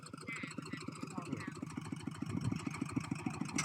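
A new tractor engine chugs in a fast, even pulse, idling nearby for the whole stretch while people talk over it.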